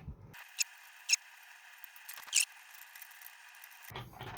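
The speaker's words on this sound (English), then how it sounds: "I have a wire down in there making a funny noise." A loose wire rubbing inside a 3D printed RC forklift gives a thin, steady whine with a few sharp squeaky ticks, faint and close, with no talking.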